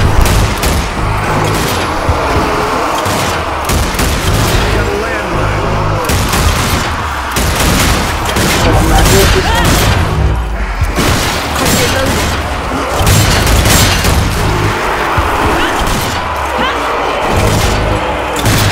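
Dense, continuous gunfire and explosions from guns in the zombie shooter game Zombie Army 4, with loud, rapid cracks and booms throughout and voices talking over the battle.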